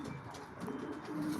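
Show pigeons cooing in their cages, low soft coos layered over a murmuring indoor background, faint and continuous.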